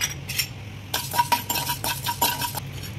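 Coriander seeds tipped into a pan on a lit stove, making a quick patter of small, bright clicks and rattles that starts after a brief pause and lasts about a second and a half.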